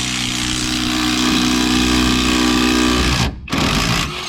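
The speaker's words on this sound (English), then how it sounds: "Oh no, it's threading that bolt." A bolt threads as a roof spoiler adjustment on a BMW E36 is wound down, giving a steady mechanical whirring drone, loud and continuous, that cuts off briefly near the end before resuming.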